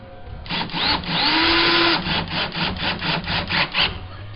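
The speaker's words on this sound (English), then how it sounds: "we're going to go ahead and put the screws back in" Screws are driven back into a door hinge with a tool, giving a close, loud burst of grinding and rubbing followed by a run of quick, evenly spaced rasping strokes as each screw tightens into the wood.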